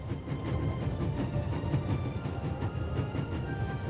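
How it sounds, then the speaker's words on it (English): A train travels in the video game The Raven, giving a steady rolling rumble with faint rhythmic rail clatter at a constant, moderate level. "There's nothing quite like traveling on a train."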